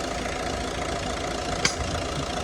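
A 1.5-litre diesel engine in a Renault Grand Scenic or VW Golf 6 idling steadily at close range, an even mechanical hum with one brief click partway through.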